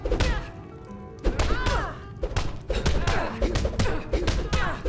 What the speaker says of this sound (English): 100 gold says I knock your hide to the ground. Just fists. No weapons, no magic, no crime.